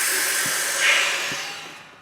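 Compressed air hisses steadily into a newly pressurized Rapid Air line fed by a compressor holding about 60 pounds of pressure, a loud, continuous, close hiss that swells slightly midway and then fades out.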